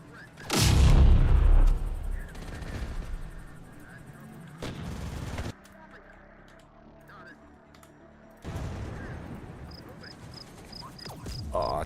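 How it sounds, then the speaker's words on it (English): Artillery fire strikes militia units in the video game Terminator Dark Fate Defiance: one heavy, deep boom up front, followed by lower rumbling battle noise and later scattered crackling, with voices talking underneath. "Oh, artillery just straight on the militia."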